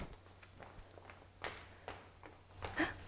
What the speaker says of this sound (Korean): 이번에는 실내화를 신고서 발소리를 내볼게요.